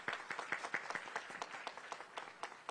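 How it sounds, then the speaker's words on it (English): An audience applauds Singapore's Deputy Prime Minister at a maritime corridor event, a thin spread of separate hand claps with distinct sharp strikes rising and falling in a fairly quiet, steady patter. "Can we have a huge round of applause for Deputy Prime Minister of Singapore?"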